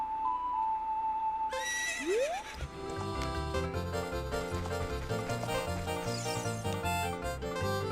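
Music from The Legend of Zelda: Ocarina of Time Master Quest plays with layered tones and a rising, whinny-like cry near the start, then a steady melodic background.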